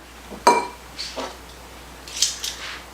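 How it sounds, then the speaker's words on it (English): Spicy Thai noodles being mixed in a bowl, giving a few separate clinks and scrapes of utensils against the dish, close and fairly quiet, with pauses between strokes. "Now all we're gonna do is mix this together."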